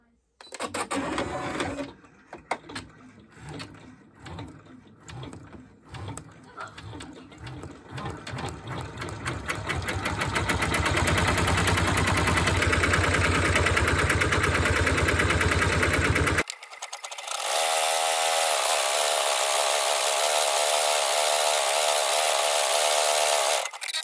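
Embroidery machine stitching through thick fur backed with stabilizer in a hoop, a close, loud, fast mechanical whirring and tapping that runs steadily and changes pitch partway through.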